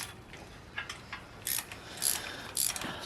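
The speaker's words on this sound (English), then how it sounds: "Tighten down the distributor clamp just a little bit." Distributor clamp on a big block engine being tightened with a hand ratchet, a few short clicking bursts of wrench ratcheting, close and moderately loud, with no talking.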